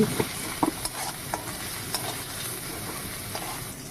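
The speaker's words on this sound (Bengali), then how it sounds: "এবার আমরা দিয়ে দিচ্ছি রসুন বাটা আবার আমরা ভালো করে কষে দিচ্ছি" Garlic paste fries in a pan over a steady, close sizzle, with a few clinks and scrapes of a spoon stirring it early on and no voices.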